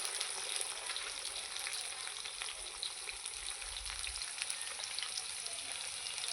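Potatoes frying and being stirred in a pan, with a steady, dense sizzle that runs without pause and soft scrapes of stirring close by, no voices.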